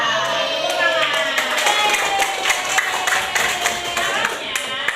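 Children in a classroom clap their hands together in quick repeated bursts, close and fairly loud, with a teacher's voice running over the clapping.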